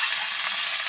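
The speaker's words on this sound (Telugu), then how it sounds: "కొద్దిగా ఆయిల్ వేసుకోవాలి ముందుగా. తర్వాత ఎగ్స్ వేస్తున్నాను నేను." Eggs sizzle steadily in hot oil in a pan, a loud continuous close-up frying hiss with no talking over it.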